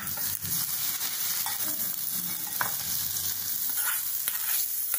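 Cabbage salad (kobichi pachadi) stirred and cooked in a pan without turmeric, giving steady scraping stir strokes over a soft continuous sizzle of frying, close and moderately loud with no voices.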